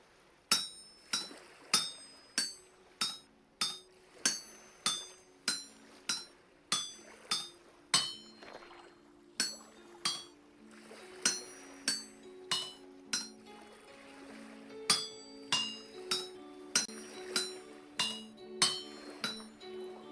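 Hammering an iron pickaxe head on an anvil in Vintage Story: a long run of sharp metallic clinks struck in a steady rhythm, about one per second, ringing brightly over a faint low hum, with a brief pause midway.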